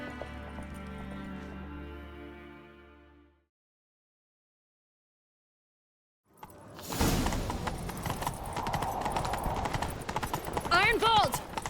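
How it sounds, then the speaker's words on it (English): Horse hooves galloping at speed in The Witcher 3 video game, a dense rapid clatter bursting in after a stretch of silence, with game music fading out beforehand and voices shouting over the chase. "Grab a horse, we'll chase him down."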